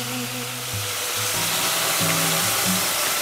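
Squeezed-dry taro greens dropped into hot oil for an ilish fish head curry, giving a steady, loud sizzle and frying hiss that carries on throughout with no talking.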